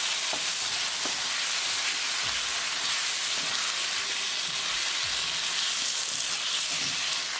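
Paneer cubes stirred into hot, sizzling tadka of spices in a pan give a steady crackling fry, punctuated by soft scrapes and knocks of the spoon, close up and without speech.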